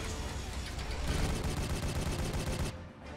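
Rapid gunfire from the Warhammer 40,000 Regicide video game crackles loudly and continuously for about three seconds as a dense burst, then stops abruptly, with no talk over it.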